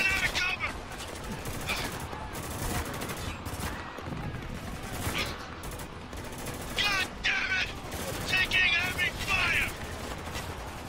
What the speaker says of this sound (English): I'm burst firing just to save ammo, basically.